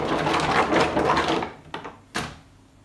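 Silicone baking molds rolled in a cloth tea towel and shaken, giving a soft dense rustling flurry, followed by a couple of sharp knocks, close and moderately loud.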